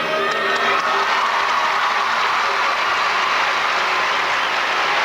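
A rowdy arena crowd at a 1996 Summer Olympics women's gymnastics event roars in a dense, sustained wash of cheering and applause that stays loud and steady throughout.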